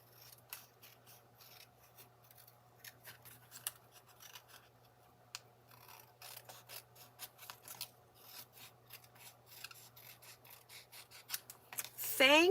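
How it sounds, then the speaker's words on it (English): Scissors trim leftover paper pieces for a matching envelope, with quiet close snips and rubbing, scattered and irregular, growing louder toward the end over a low steady hum. "So I'm just going to trim that off."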